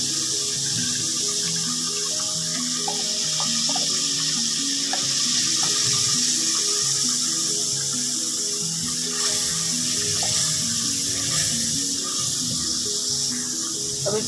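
Water runs steadily from a kitchen tap while spinach and boiled egg curry is being cooked, a continuous loud splashing rush with light clinks of utensils underneath.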